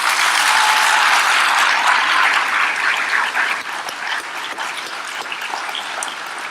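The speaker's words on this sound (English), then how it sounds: "Please join me in offering a round of applause for our Employees of the Month." An awards ceremony audience applauds employees of the month, a loud dense clapping that fades somewhat partway through and continues at a lower level.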